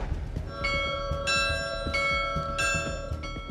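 Church bells of the newly consecrated Miðgarðakirkja on Grímsey ring out in several overlapping, sustained metallic strikes, with clear ringing tones repeating about every second, fairly close and steady, with no voices.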